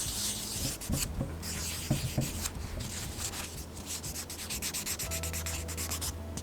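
A nail buffer rubbing over press-on nails to smooth them, giving a soft, continuous scratchy sanding sound close by with slight rhythmic strokes, fairly quiet.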